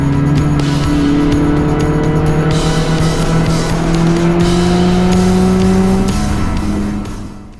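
Mazda Miata motoring along a forested redwood road, its engine droning loud and steady with a slowly rising pitch, then fading out at the end.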